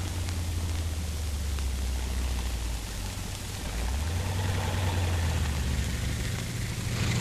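An engineer armored vehicle fitted with a dozer blade idles with a steady, low diesel rumble under broad hiss, the engine note shifting slightly partway through and continuing without a break.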